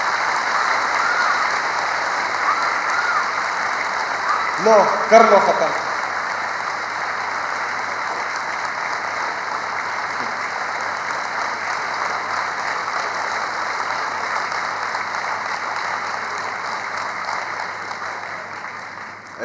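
Students in a hall applaud loudly for Imran Khan, a dense, sustained wash of clapping that runs the whole time, with a brief burst of voices near the middle.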